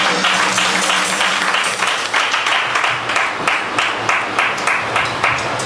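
A church congregation claps during a service, a loud, dense burst that settles into steady rhythmic clapping in unison, with a faint voice or music underneath.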